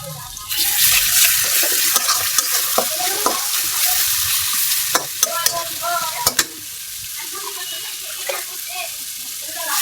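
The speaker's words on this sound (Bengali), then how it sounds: "একটু পানি মশলাটা কষানো লেগেছে" Spice paste of turmeric, coriander, ginger, cumin, garlic and onion frying in oil with a splash of water, a loud steady sizzle with occasional scraping stirs of a spoon in the pan.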